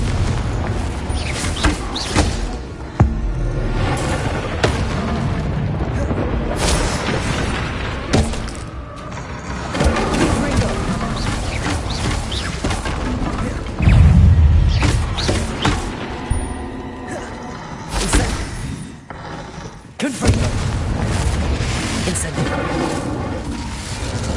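Booming spell blasts from Hogwarts Legacy, cast in a rapid string of Bombarda, Confringo and Incendio while exploring Old Hogwarts, with mechanical clatter, crackles and thuds layered densely over a steady game soundscape.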